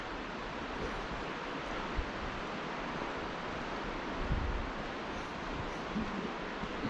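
River rushing beside a forest trail at Mount Rainier, a steady broadband roar of flowing water with no voices, constant and fairly loud throughout.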